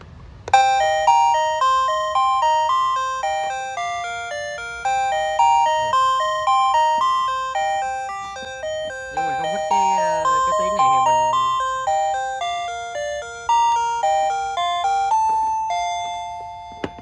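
An electronic call bell alarm for elderly and sick people rings out a loud, repeating ding-dong chime melody that plays continuously, phrase after phrase, with no talking over it.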